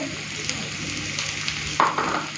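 Bitter gourd and potato slices sizzle in hot oil, a steady broadband frying hiss with a sharper burst of crackle near the end as pieces are stirred; no voices.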